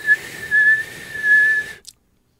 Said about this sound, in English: I want to see if it's louder than my whistle.